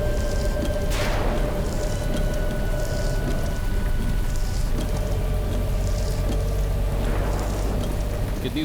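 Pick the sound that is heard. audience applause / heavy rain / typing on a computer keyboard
heavy rain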